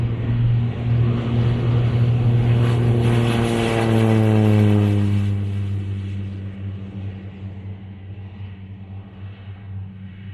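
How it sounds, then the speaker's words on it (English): An Embraer Tucano turboprop taxis at Pine Mountain Lake airfield, its loud droning engine sweeping up in pitch as it passes close by, then settling into a steady rumble and fading slightly. "that's my dream airplane taxiing right now"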